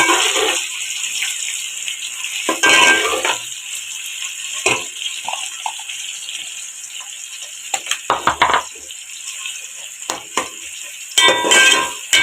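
Onions frying with chillies, biryani masala, dry coriander and garam masala in a pot for aloo pulao, giving a steady low sizzle broken by intermittent stirring and clattering bursts of a spoon against the pot.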